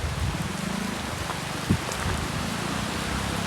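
Sudden heavy rain pours down steadily in a dense, even hiss, with a brief knock partway through.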